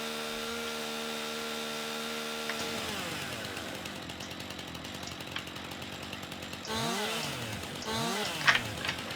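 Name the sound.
chainsaw cutting tree stumps in Farming Simulator 19 video game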